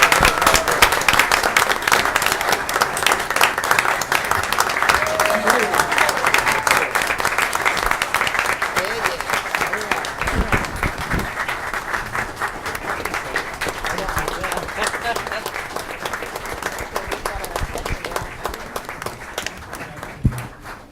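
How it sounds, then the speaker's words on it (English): Sustained audience applause at a county freeholder meeting honoring a firefighter, a roomful of hands clapping steadily and slowly tapering off, with faint voices mixed in. "So definitely deserves a round of applause."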